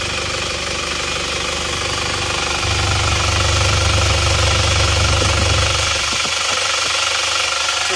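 An Isuzu Panther diesel engine idles warm after a rebuild with new original liners, a loud steady mechanical clatter with a deep low rumble that rises in the middle and then drops away near the end.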